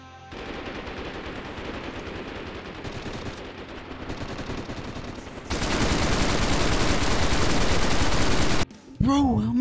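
Rapid automatic gunfire in DayZ, a loud, continuous burst of shots that swells even heavier midway before cutting off abruptly, followed by a brief voice.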